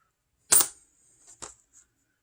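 A penny set down on a surface in a room among markers, crayons and scissors, giving one sharp clink followed by two fainter small taps, close and alone.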